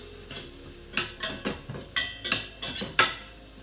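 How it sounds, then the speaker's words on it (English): Peppers and onions sautéing in a pan, a series of close, sharp scraping clinks as a utensil pushes the vegetables around, in an irregular rhythm with no talking. "let's do a bit more sauteing here on our poor neglected vegetables"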